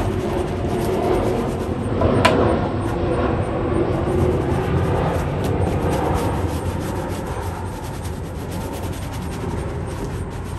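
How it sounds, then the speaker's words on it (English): A soft brush scrubs the sudsy nylon upper of dusty shoes, making a steady, close, rough swishing rub that runs without a pause. "Use a soft brush on the nylon in the upper."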